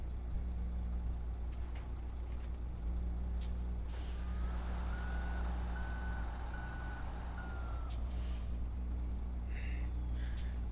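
A heavy truck in the SnowRunner off-road game backs up with steady engine rumble, repeated reversing beeps and sharp hissing bursts of its air brakes, all loud and close with no talking.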